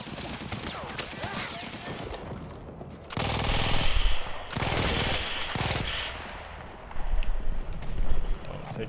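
A rapid-fire double-barrel gun in Battlefield 1 shooting in loud, continuous bursts, two heavy volleys separated by a brief lull, over a busy battlefield din.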